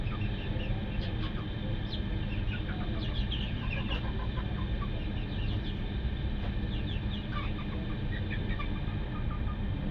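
Pet chickens kept on a rooftop cluck and chirp while eating pasta, a continuous scatter of soft, close clucks over a steady background hum.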